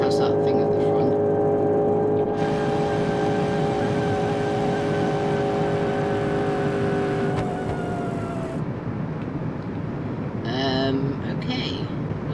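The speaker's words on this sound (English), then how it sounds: "The engine is making a weird noise." Simulated car engine in the BeamNG.Drive racing game, overheating and making an odd noise: a loud continuous whining drone that holds steady then drops away, with brief chirping tones near the end.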